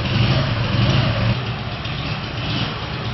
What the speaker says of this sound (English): The Ukrainian bike has a BMW licensed engine.